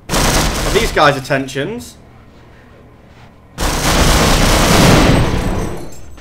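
Dense gunfire and explosions in the Half-Life video game, loud and continuous at first, then a short lull before another sustained burst of shooting. A voice talks over the opening.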